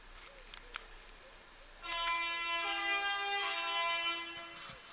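A vehicle horn sounds from outside a home workshop, a single sustained blast lasting a few seconds at moderate distance. Faint clicks precede it in an otherwise quiet room, and no one speaks.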